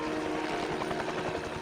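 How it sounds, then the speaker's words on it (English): A helicopter landing in the video game James Bond 007 Blood Stone, loud and close, with a steady rotor roar and rhythmic thumping that carry on throughout. "That's why the helicopter is landing outside your hotel."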